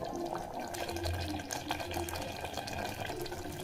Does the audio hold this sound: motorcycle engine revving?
no